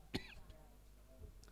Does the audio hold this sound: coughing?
yes